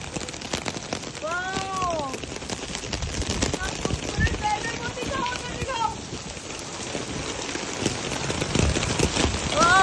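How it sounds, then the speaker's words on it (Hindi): Steady rain falls and patters on surfaces throughout in Karachi, a dense hiss with scattered drops; a few faint, brief calls rise over it. "काम पे जाते एकदम से फिर से यहाँ बारिश शुरू हो गई"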